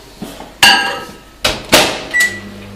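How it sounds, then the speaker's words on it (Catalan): A microwave oven softening butter for a lime tart's frangipane cream: loud, close clunks of the door opening and shutting and button presses, followed by a steady low hum as it starts running. "Jo el que faré serà clavar-la uns segonets al microones"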